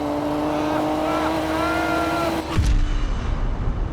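Ford GT sports car engine accelerating hard, a rising, sustained engine tone that cuts off abruptly into a deep low rumble and roar, close and loud.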